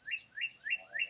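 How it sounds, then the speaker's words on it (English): Several small birds chirp outdoors in four evenly spaced, rising tweets, fairly clear and close, with no talk over them. "you hear the birds"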